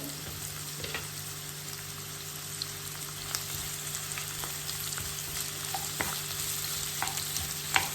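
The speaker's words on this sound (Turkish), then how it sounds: "soğanlarımız böyle pembeleşene kadar kavuralım arkadaşlar" Onions and garlic sauté in a pan, giving a steady soft sizzle with scattered crackles and occasional stirring scrapes, quiet and close, with no talking.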